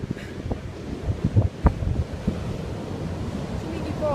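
Ocean surf breaks along an Australian coastline with rough waves, rolling wash and crashes mixed with gusty wind buffeting the microphone, heard up close and fairly loud.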